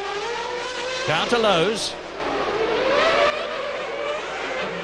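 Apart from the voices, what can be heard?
Formula 1 race car engine, Damon Hill's car, Monaco 1995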